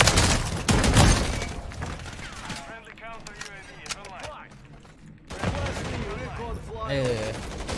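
Bursts of SMG gunfire in Call of Duty MW3, rapid automatic fire that cuts in loud, pauses while other game sounds and a voice carry on, then resumes in heavy bursts.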